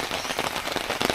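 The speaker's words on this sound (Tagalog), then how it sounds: "Buti hindi bumubuhos yung ulan." Rain patters steadily on a camping gazebo in Bargo, Australia, a dense hiss of drops that stays moderately loud and even, with no voices.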